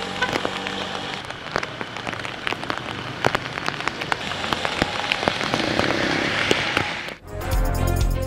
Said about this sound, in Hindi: कराची के मुख्तलिफ इलाकों में अलग बूंदाबांदी और हल्की बारिश।